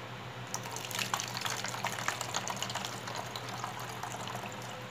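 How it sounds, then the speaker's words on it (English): Hydrogen peroxide poured into a bottle for an elephant toothpaste experiment, a steady splashing, trickling stream of liquid heard close up, continuous for several seconds with no talking. "And we're going to pour some inside the bottle."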